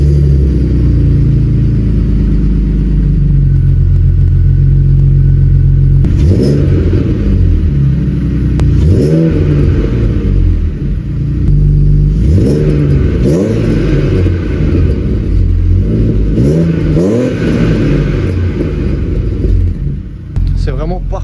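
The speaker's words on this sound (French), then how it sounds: "on va terminer la vidéo avec la petite sonorité encore du 3 litres avec le petit silencieux Super Sprint" A BMW E30 330i with a 3-litre engine and a Super Sprint muffler idles with a deep rumble, then revs repeatedly in sharp bursts that rise and fall, loud and close.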